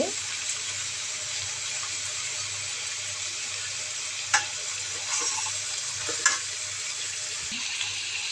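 Fish pieces cooking in curry with green chillies in a home kitchen, a steady soft sizzle and bubbling with a couple of sharp clinks of a spoon against the pot.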